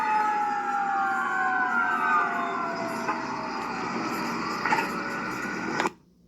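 A pumper fire truck's siren wails steadily in the streets, sweeping in pitch at moderate distance, then cuts off abruptly near the end.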